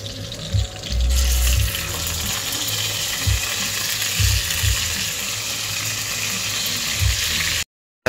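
Marinated chicken frying in a pan, a continuous loud sizzle that flares up as the pieces go in, with a few clanks and stirring knocks against the pan before it cuts off.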